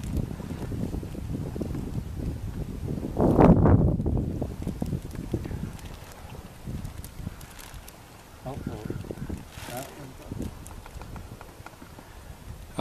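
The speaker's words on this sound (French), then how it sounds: "le vent est revenu" Wind gusting over a Klepper folding sailboat out on the water, a broad rushing buffet on the microphone that swells loudest early and then eases, with people talking over it at times.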